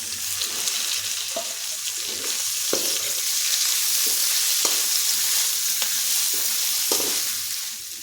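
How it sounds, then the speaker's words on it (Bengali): Vegetables and chopped chili sizzle loudly in a hot pan for chicken chowmein, a continuous close frying hiss with occasional light taps of stirring. "এখন সবজিগুলো ভেজে নেব। আর সবজিগুলো ভাজতে ভাজতে দিয়ে দিচ্ছি লঙ্কা কুচি।"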